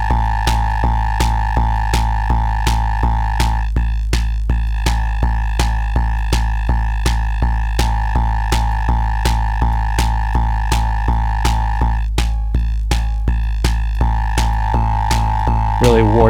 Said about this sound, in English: you could also adjust the pitch of your VCO as well for varied effects.